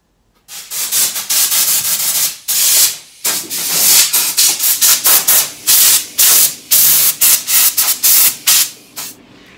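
Hand sanding on the wooden corners of a sideboard, brisk rasping back-and-forth strokes that start as a long run and break into quick rhythmic bursts, loud and close, with no talking.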